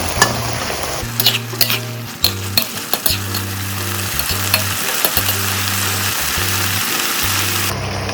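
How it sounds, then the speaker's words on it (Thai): Pork with shrimp paste and stink beans is stir-fried in a pan, a loud constant sizzle with rapid spatula scrapes and clanks, while a steady low hum from the burner or extractor pulses on and off beneath. "ใส่สตอค่ะ ทำแป๊บๆนะคะ"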